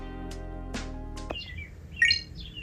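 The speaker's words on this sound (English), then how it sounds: "there's a bird chirping up a storm out there." A bird outdoors chirps in a few quick, high bursts, fairly faint and distant, following some tonal indoor sounds.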